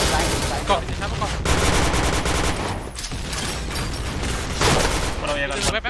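Sustained automatic gunfire in a shooter video game during a team match, dense loud rattling bursts with brief gaps, layered under excited players talking.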